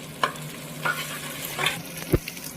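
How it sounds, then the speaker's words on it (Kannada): Ginger garlic paste frying in oil for Ambur chicken biryani, a soft continuous sizzle with a few sharp spoon scrapes and one firm knock against the pan, close and quiet. "ನಾನು ಶುಂಠಿ ಬೆಳ್ಳುಳ್ಳಿ ಪೇಸ್ಟ್ನ ಹಾಕ್ಕೊತಾ ಇದ್ದೀನಿ. ಸೊ ಎಲ್ಲ 1 by 1 ಹಾಕ್ಕೊಂಡು ಚೆನ್ನಾಗಿ ಹಸಿ ಸ್ಮೆಲ್ ಹೋಗೋವರೆಗೂ ಫ್ರೈ ಮಾಡ್ಕೊಬೇಕು"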